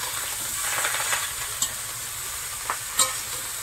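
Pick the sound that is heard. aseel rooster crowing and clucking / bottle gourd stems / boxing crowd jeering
bottle gourd stems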